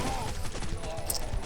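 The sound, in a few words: gunfire from the video game Guns of Boom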